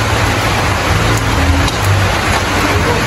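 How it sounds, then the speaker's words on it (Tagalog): Steady, dense hiss of heavy rain pouring down, with a low rumble underneath, continuous throughout and fairly loud. "malakas-lakas ang ulan"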